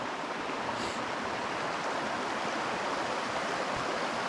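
Water pours steadily over a dam at an old narrow-gauge sawmill site in snowy weather, a constant broadband rush with no breaks, close and fairly loud.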